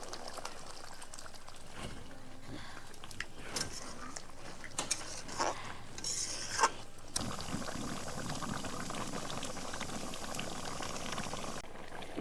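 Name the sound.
prawn curry gravy boiling in a pot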